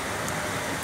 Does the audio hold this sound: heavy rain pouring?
yes